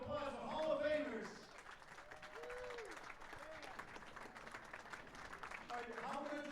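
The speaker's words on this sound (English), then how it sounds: "Please give a big round of applause for Hall of Famers." A crowd claps steadily in sustained applause for Hall of Fame inductees at an exhibition event, fairly distant, with voices calling and cheering over it.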